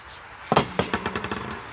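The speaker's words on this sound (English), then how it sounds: "Chipping hammer." A metal chipping hammer clanks and clinks in a quick run of about eight sharp taps, handled close by among welding tools while a bike rack is assembled.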